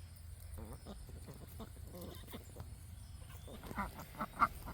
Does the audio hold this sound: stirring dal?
no